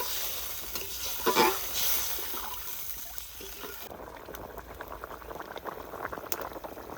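Vegetable curry with fried potatoes bubbling after water is added, a soft steady simmer with a brief louder stir or splash early on, fairly quiet and with no talking.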